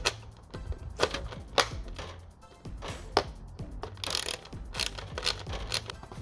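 A ratchet with an 8mm socket tightens a nut while fitting carbon fiber front side scoops on a Can-Am Ryker, making close, sharp repeated clicking in uneven bursts with metallic handling between them.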